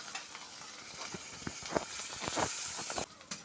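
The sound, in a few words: green chilies and chopped onion sizzling in hot oil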